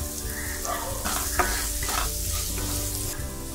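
Onion sizzles and fries in a pan with a little salt while a utensil stirs it steadily, a continuous close crackle with light scraping throughout.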